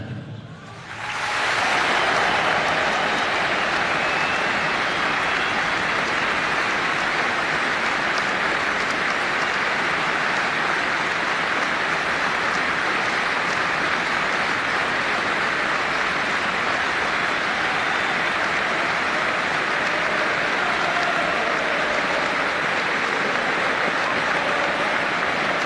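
A stadium crowd at a Premier League match between Manchester United and Brighton applauds in a loud, sustained wash of clapping and cheering that fills the whole stretch without letup.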